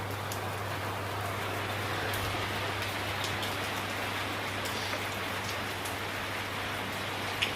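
Heavy Friday afternoon rain falls steadily, with a constant dense patter on surfaces and a low background hum, and no voices.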